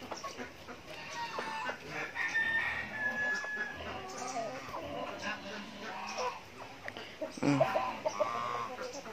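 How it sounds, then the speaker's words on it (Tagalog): Chickens cluck and a rooster crows amid a busy, noisy farmyard background, with people talking at times. "Tapos dito naman is maraming manok."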